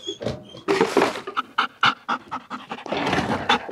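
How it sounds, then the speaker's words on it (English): Small dog panting in quick, rhythmic breathy huffs close by, with faint whimpery tones mixed in and no voices. "That dog will eat you."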